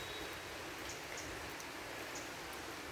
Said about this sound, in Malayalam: ഇവിടെ പിന്നെയും മഴ തന്നെയാട്ടോ.